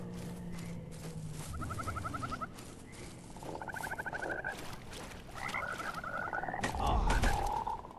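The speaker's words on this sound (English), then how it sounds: "I'm getting attacked by a frog?" A frog enemy croaks in the video game Mortal Shell, with repeated rippling croaks in bursts amid game ambience, a heavy thump near the end, and no talk.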